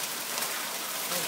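Tiny hail pellets in Poway patter densely and evenly as they fall, a soft continuous hiss of small impacts with no talk over it.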